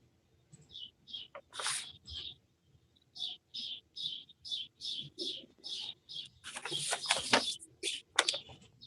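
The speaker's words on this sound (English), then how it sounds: "All those birds, sounds like you're in an aviary." Birds chirping outdoors on a spring morning, a series of bright repeated tweets and calls in steady bursts, with a denser flurry of chirps near the end and faint background noise.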